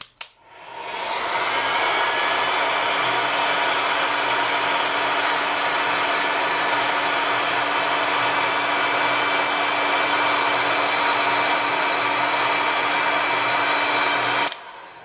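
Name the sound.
heat gun running over polymer clay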